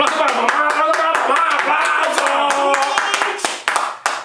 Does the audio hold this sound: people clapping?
yes